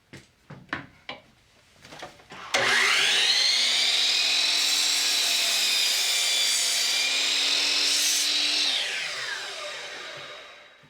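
A power saw cuts through four stacked wood pieces at once. Light taps come first, then the motor spins up into a loud, steady whine that lasts about six seconds before winding down.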